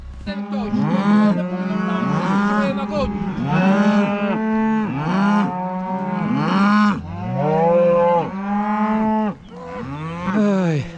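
Cattle are herded for veterinary blood sampling and vaccination and moo loudly and repeatedly at close range, long overlapping calls following one another with hardly a break.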